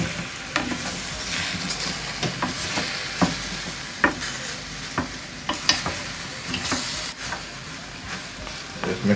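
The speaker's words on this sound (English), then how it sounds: "Just make it go and fry a little bit in its own oil" Pieces of common fowl meat fry in their own fat in a pan, a steady sizzle running throughout with repeated scraping and stirring knocks as the pieces are moved about; no voices.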